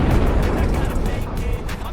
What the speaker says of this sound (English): Explosions rip its turret off and hurl it into the air.